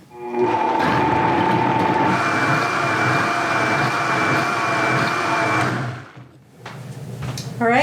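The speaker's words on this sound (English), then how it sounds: "So let's get it blended up" Blender whirring through a batch of homemade enchilada sauce, a loud steady motor whine running for about six seconds before spinning down, followed by a short second burst.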